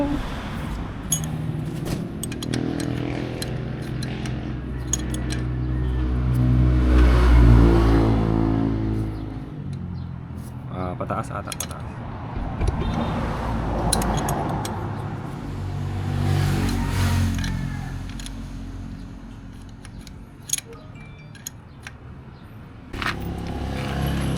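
A Yamaha Sniper 155R motorcycle engine revs up and down repeatedly with rising and falling surges, loud and close, a deep throaty tone with a few sharp clanks.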